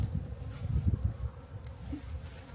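Honey bees buzz softly around a winter hive as a feeding block is placed above them, a low irregular hum with scattered faint wing flurries close by.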